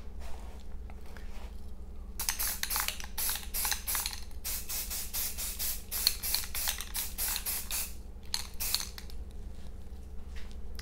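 Spray can applying a coat of finish to an AR lower receiver in several short and long hissing bursts, close and separated by pauses, over a low steady background hum.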